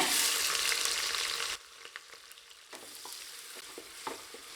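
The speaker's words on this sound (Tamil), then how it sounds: "வெங்காயம் லேசாக செவந்து வர அளவுக்கு நல்லா வதக்கி விட்டுக்கலாங்க" Onions sautéing in a hot pan: a loud sizzle that drops suddenly quieter, followed by soft crackling and occasional scraping stirs.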